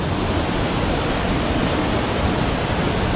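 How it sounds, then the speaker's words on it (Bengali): Usri waterfall pouring down, a steady, loud, broadband roar of falling water that stays constant throughout with no voices. "এখানে ঝর্ণার জলটা পড়ছে"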